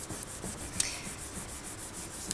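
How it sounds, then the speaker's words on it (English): Paper is rubbed firmly over polymer clay layered with metal leaf in soft, repeated scratchy strokes, close and quiet, with a couple of sharper crinkles partway through. "take a piece of paper and smooth it down. Give it a good burnish"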